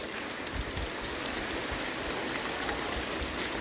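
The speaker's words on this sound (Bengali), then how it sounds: "বালতিতে জল ভরতে দিলাম" Tap water runs steadily into a bucket, a constant close rushing splash with no pauses and no voices.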